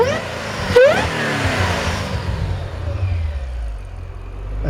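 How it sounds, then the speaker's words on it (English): A 2009 Shelby GT500 revved with the hood up, one sharp loud blip of the engine that climbs and falls, then settles into a deep rumbling idle close by. "let me see if I can punch the gas again with the top up, with the hood up, because it sounds so freaking awesome"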